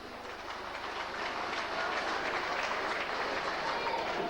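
A rugby league crowd applauds at a Widnes versus Warrington match, giving a broad, sustained wash of clapping and cheering that swells slightly and stays steady, with no voices over it.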